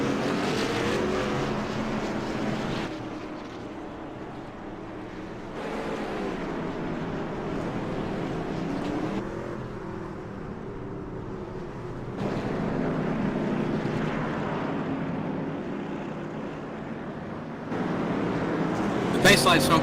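Racing trucks at Martinsville drone past in waves, engine noise swelling and fading every few seconds, heard under almost constant commentary.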